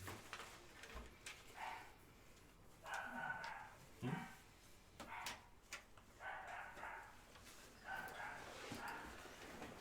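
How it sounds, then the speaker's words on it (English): A dog barks intermittently in the background, faint, muffled yips and woofs recurring every second or two beneath a low, noisy room ambience. "Yeah, you can hear the dog barking in the background."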